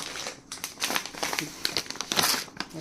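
Crinkling and rustling of a torn plastic bag that held semolina, steady close crackles and crumples running throughout with no pauses.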